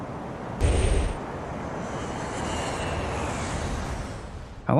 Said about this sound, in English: I like how the sound effect of the airplane comes after